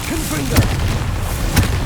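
The Confringo blasting spell goes off twice in Hogwarts Legacy in the Goblin Mines, giving two short, loud booms about a second apart over a dense, rumbling game background.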